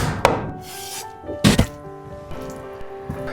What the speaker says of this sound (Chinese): 鸡腿先改刀，一个鸡腿切成3块就可以了